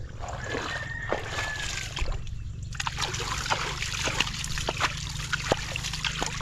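Irrigation water trickles and splashes into a cabbage field, a faint, steady flow with scattered drips and splatters close by, and a voice is heard briefly.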